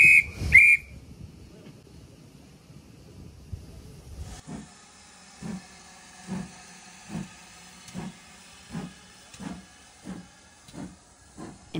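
A vintage steam locomotive on the West Somerset Railway gives a brief shrill whistle, then a steady hiss settles into rhythmic chuffing beats, loud and close, at a measured pace.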